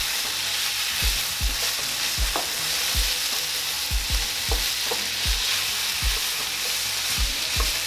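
Ground turkey sizzles steadily in a frying pan with teriyaki sauce, with a spoon scraping and stirring in regular strokes about once a second over the constant frying hiss.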